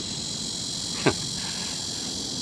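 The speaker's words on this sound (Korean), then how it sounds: "비가 끝이고 나니까는 매미 소리들이 한창" Cicadas drone in a steady, high-pitched buzz from a distance on a hot summer day after rain, broken only by a brief voiced sound partway through.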